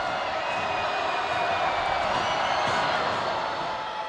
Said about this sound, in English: In and out to a deafening crowd